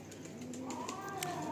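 A pair of Madrasi and Giribaj pigeons, a female and a male, give soft low cooing notes close by, with faint rustling and background chatter around them.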